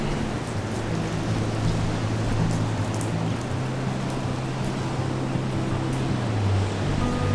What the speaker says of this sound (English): as it rains